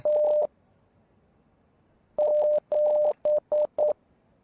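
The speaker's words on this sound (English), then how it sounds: "We're gonna have to decode some Morse code." Morse code signal in the VR game Rise of Insanity: loud, clean electronic beeps on a single steady pitch, one long tone, a pause, then two long tones and three short ones in a clipped rhythmic sequence.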